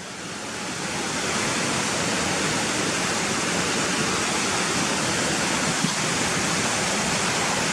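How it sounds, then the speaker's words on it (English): Stream water rushes steadily over white water, a loud, continuous broadband roar that swells in over the first second and then holds constant, close by, with no voices. "So you can see the water coming over the white water"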